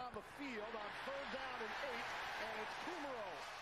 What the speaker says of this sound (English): You hear that crowd too?